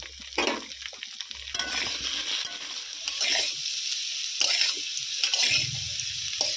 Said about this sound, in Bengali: লবণ এবং হলুদ গুঁড়ো দিয়ে আলুটা ভেজে নেব।